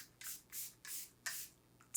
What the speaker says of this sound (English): It's not the most perfect sprayer.